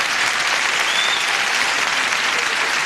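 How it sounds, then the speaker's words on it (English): Dense, steady applause from a game show studio audience, a loud continuous wash of many hands clapping with no pauses or voices. "Applause, applause, applause."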